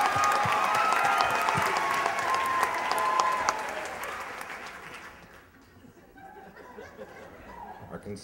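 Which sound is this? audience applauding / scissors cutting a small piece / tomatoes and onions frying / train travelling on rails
audience applauding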